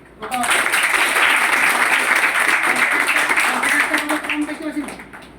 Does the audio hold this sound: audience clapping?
yes